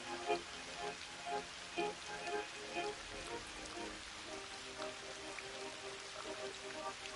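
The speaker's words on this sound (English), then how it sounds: "watch the rain come down and watch the water levels go up." Rain falling on a pond, recorded by a trail camera: a steady, dense patter of drops with occasional louder splashes, faint and distant-sounding, with no voices.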